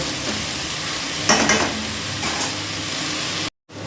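Drumstick flowers frying in hot oil, a constant nearby sizzle broken by a couple of louder stirring scrapes before a brief dropout near the end.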